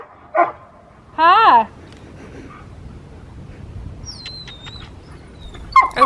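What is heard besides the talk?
dog barking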